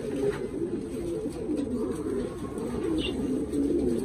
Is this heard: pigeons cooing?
yes